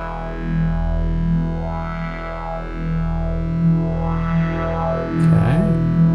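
Sustained electric guitar tones with a sweeping, whooshing flanger modulation rising and falling in slow waves, evenly compressed, with a brief scrape near the end.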